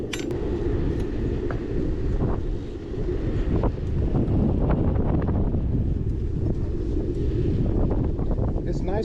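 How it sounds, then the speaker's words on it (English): Strong outdoor wind buffets the microphone with a steady low roar throughout a backyard metal-melting session with a furnace, loud and close, briefly easing near the three-second mark. "It's nice when it's windy out and you're pouring molten metal."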